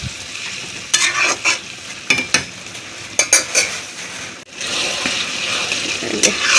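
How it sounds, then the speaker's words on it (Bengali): A spatula scrapes in quick, repeated strokes through palak gosht, a precooked spinach, mutton and potato curry, in a pan, and then the pan settles into a continuous close sizzle. "এই যে ঢেলে দিলাম, এবার নেড়ে নেব।"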